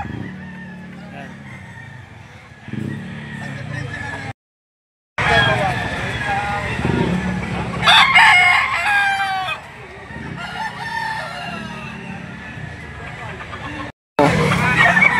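Roosters crow repeatedly among chickens laid out for sale at a market in Lipa City, Batangas, loud and nearby, mixed with clucking, background bustle and someone talking.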